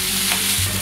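Beef sizzles in a little oil in a hot wok, a loud, steady crackling hiss being stirred, with no voices.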